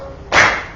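A single sharp clap from a fifth-grade class practicing a rhythm pattern, loud and close, alone against quiet room tone.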